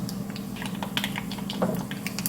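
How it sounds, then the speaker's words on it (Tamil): Mustard seeds, fenugreek and whole onion spluttering in hot oil as the tempering for a yellow pumpkin sambar, a dense run of quick crackles and pops over a soft sizzle, close and fairly quiet. "கடுகு நல்லா பொரியட்டும்"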